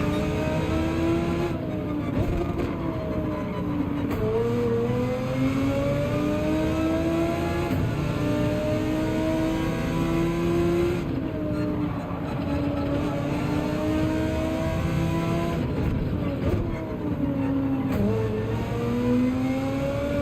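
Race car engines in the Gran Turismo 7 video game, including an Audi, drone loud and continuous, with pitch climbing and dropping through gear shifts as the cars race and brake, with no pauses.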